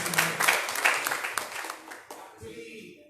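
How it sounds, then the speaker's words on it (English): A short burst of audience applause, moderately loud and dense for about two seconds before fading into quieter room noise. "please give a round of applause for"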